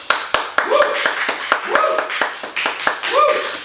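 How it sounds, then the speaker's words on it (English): A few people clap in sharp, distinct strikes at an uneven pace, close and fairly loud, while a voice speaks over and between the claps. "Let's clap."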